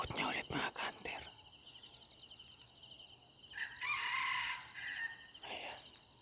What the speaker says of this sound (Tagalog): Yan, tumitilaok ng aking panghati na si Trace